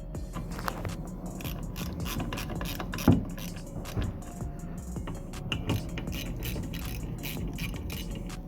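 Ratchet clicking steadily while removing a wiper arm nut on a 2012 SEAT Ibiza, dense metallic pawl ticks running throughout with a louder knock around the middle, close and moderately loud, no talking.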